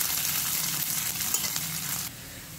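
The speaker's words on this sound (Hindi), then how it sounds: "तो प्याज लहसुन और अदरक को थोड़ा सा हम 2 मिनट चला लेते हैं" Onion, garlic and ginger fry in a pan with a steady, close broadband sizzle that holds level before dropping slightly quieter near the end, with no voices.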